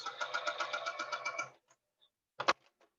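A sewing machine stitches a quilt block at steady speed in a run of rapid, even needle strokes for about a second and a half. It stops, then a brief louder clatter or thump follows.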